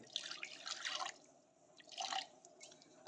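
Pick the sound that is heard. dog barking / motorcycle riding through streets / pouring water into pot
pouring water into pot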